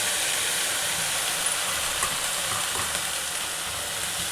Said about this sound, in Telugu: మంచిగా ఫ్రై చేయాలి మొత్తం